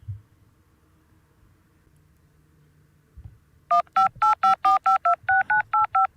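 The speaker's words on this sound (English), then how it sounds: "Lakeisha, I might have to give her a phone call" A phone dials a number with ten crisp, evenly spaced touch-tone beeps, loud and close, after a stretch of near silence.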